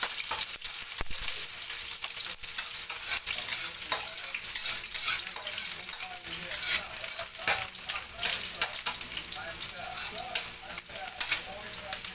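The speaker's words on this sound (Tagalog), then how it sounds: "Gisa ko muna yung ano, sibuyas." Onions sauté in a pan on a home stove while pancit is being cooked, giving a steady close sizzle and hiss with occasional stirring clatter throughout.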